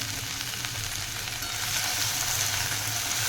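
Okra (bhindi) sizzles steadily in a pan on a low flame, a soft continuous frying hiss with faint stirring, close and unbroken.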